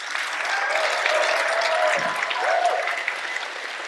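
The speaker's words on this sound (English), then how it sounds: "let's give a huge round of applause right here." A panel audience at a convention breaks into steady applause, a full wash of many hands clapping at a consistent level for several seconds, with a faint murmur of voices underneath.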